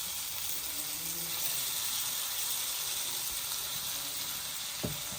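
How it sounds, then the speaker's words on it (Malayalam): Koora fish frying on a stove in a home kitchen, an even hissing sizzle held at a steady level with faint low murmurs and a brief knock near the end. "അപ്പോൾ ഇതാ അപ്പുറത്തെ അടുപ്പിൽ നമ്മളത്തെ ഫിഷ് ഫ്രൈ ചെയ്യുന്നുണ്ട് കേട്ടോ. കോരയാട്ടോ ഫ്രൈ ചെയ്യുന്നത്."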